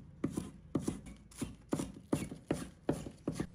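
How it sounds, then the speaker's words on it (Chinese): A knife chopping scallions on a cutting board, about eight crisp, evenly spaced thuds at a steady rhythm, close and fairly quiet, with no talking. "把它切成葱花"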